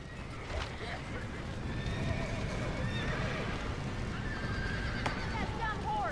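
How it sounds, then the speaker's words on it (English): A horse whinnies loudly several times while hooves clip-clop steadily nearby, with people talking and shouting excitedly over the animal sounds. "That dumb horse!"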